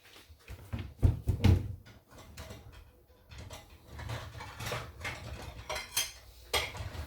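Homemade chicken pulao is scooped from the pot onto a plate, with repeated metal spoon scrapes and clinks against cookware and dishes, some louder knocks early on, continuing unevenly throughout.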